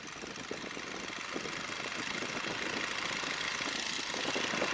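Engine of a 1942 Boeing Stearman biplane throttling up for takeoff, a steady close rumble with a knocking texture that grows gradually louder, no talk.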